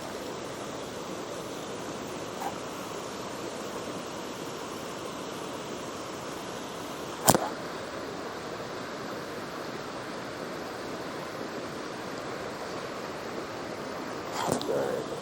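Steady broadband rush of creek rapids flowing near a swimming pool in backcountry terrain, a continuous even wash of water that stays fairly loud throughout, with a couple of brief sharp knocks.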